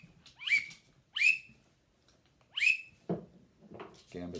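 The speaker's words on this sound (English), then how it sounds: "This is the pintail widgeon call, also sprig. And I know I will not blow this right, but it's basically a whistle." A plastic pintail and widgeon duck call whistle gives three short, rising chirped whistles, spaced about a second apart and close to the mic, followed by someone speaking briefly.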